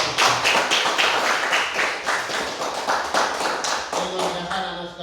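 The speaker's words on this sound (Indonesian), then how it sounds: "berikan tepuk tangan untuk semua kelompok" A classroom of students applauding all the groups at the end of a history lesson, a dense, loud burst of many hands clapping in fast irregular rhythm that continues steadily, with scattered voices mixed in.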